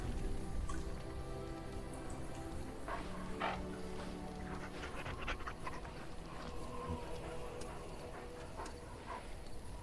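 A dog pants in the video game Sakura No Seirei, quick soft breaths under a busy, faint game soundscape with occasional drips and tones, no speech.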